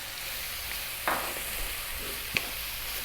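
Fresh chili hitting hot oil in a pan of frying lamb curry with garlic ginger paste, a steady broad sizzle throughout, with two quick stir scrapes standing out briefly, no voices.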